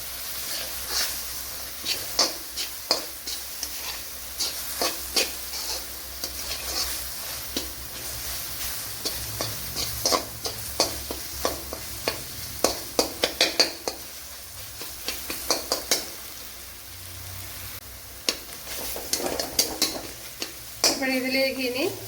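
Mashed banana and poha sizzle gently in a frying pan as a utensil stirs, scrapes and taps against the metal in irregular strokes, close up with a soft frying hiss underneath.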